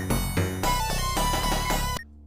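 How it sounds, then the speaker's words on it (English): Sonic the Hedgehog boss level theme from a Keep Talking and Nobody Explodes module, loud synthesized music with alternating octave notes over a low drum, playing steadily for about two seconds before cutting off abruptly. "first we have the boss level theme, which is characterized as two alternating octaves accompanied by a low drum"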